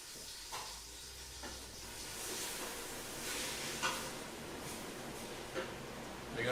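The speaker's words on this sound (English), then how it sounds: "you should be able to hear the bacon nicely cooking behind me" Bacon sizzling and crackling in a Ninja Foodi as the base for a beef chilli, a steady low hiss with occasional small pops and a brief stir, fairly quiet and alone with no talk.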